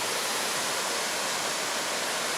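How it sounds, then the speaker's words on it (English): Mandado Falls pours as a steady, dense, full-range roar of falling river water, close by and unbroken, with no voices. "Now we're coming up to the waterfall"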